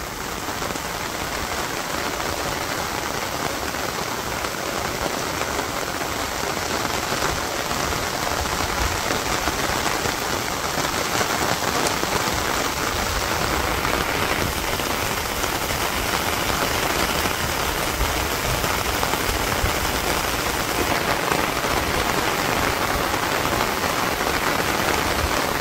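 Heavy rain pouring over a village, a dense, even hiss of drops on surfaces that stays loud and steady throughout with no voices.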